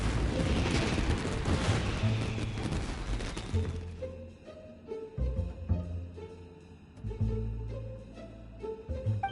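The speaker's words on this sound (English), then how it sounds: "Fireworks aren't just for festivals, you know" Fireworks in the video game Genshin Impact burst in a dense, booming volley at first, then give way to scattered separate pops and thumps spaced over several seconds against quieter game sound.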